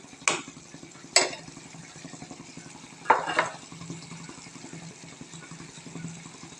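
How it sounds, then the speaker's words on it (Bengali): Tomatoes being stirred and fried with tengra fish in a pan: a low simmering sizzle broken by three sharp spatula scrapes against the pot early on. "টমাটো দিয়ে সুন্দর করে নাড়াচাড়া করে নিচ্ছে নড়াচড়া শেষে সুন্দর করে কষিয়ে নিতে হবে"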